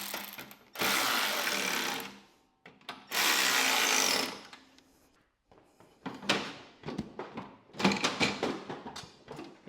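Bolts are snugged up with a ratchet on a John Deere D105 riding mower, giving bursts of rapid clicking separated by short pauses, close and fairly quiet.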